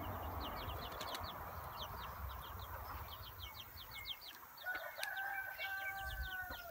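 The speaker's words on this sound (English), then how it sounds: "there's 4 chickens here, and the mamas are protecting them" Mother hens guarding their chicks cluck in short repeated bursts nearby, with fainter cheeping and a rooster-like call near the end over steady outdoor background noise.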